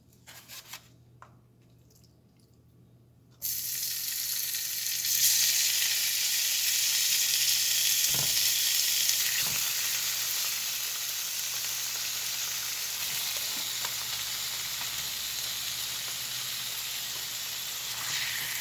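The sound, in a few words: bite-sized chicken tenders frying in a pan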